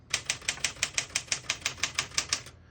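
A 1966 Smith-Corona Classic 12 portable manual typewriter is typed on at single spacing, making a brisk, evenly spaced series of about fifteen crisp, loud key strikes, close up and without talk.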